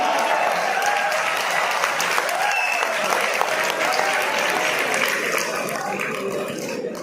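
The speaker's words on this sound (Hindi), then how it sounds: "ठोको ताली।" An audience at a Hindi comedy poetry show applauds with dense, continuous clapping that stays steady throughout, with faint voices beneath.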